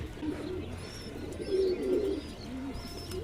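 A pigeon coos softly and repeatedly at close range near its coop, low throaty calls over light background noise with no speech.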